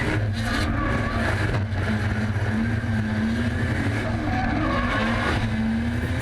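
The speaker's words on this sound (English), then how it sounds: "engine screaming" A race car engine screams at high revs on a circuit, a loud continuous buzzing drone with shifting pitch and slight tyre noise, close and alone without talk.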